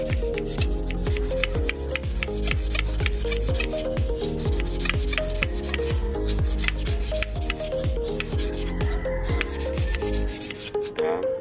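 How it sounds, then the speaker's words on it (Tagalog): A rusty wall fan shaft is sanded by hand with sandpaper: loud, close, rhythmic rasping strokes repeat steadily about twice a second throughout, with no talking. "lihahin ko po itong shafting para matanggal ko po dito yung mga kalawang at saka po yung mga matatalas"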